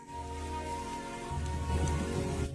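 Cold rain shower falling steadily on surfaces, a soft, even patter that grows slightly heavier partway through. Quiet and continuous, with no voices.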